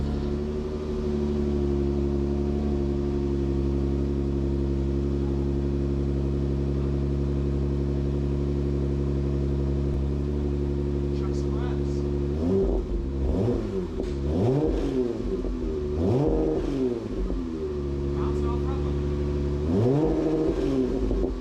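Chevrolet Corvette C6 Z06 with a stage 1 build, idling with a steady low rumble that breaks into several sharp revving bursts through the exhaust in the second half, loud and close.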